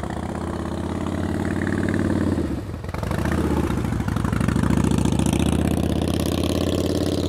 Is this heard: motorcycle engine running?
yes